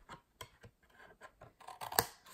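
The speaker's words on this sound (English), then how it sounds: "these are the little flaps that I'm going to take away. We do not need those at all. So just snip those off." Scissors snip off the paper flaps of a handmade gift box in a quick series of crisp, close cuts, with one sharper click near the end, quiet and with no talking.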